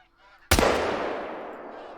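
In the Call of the Wild hunting video game, a flock of geese honks while a sudden loud shotgun-like blast cracks midway and rings out in a long, fading echo.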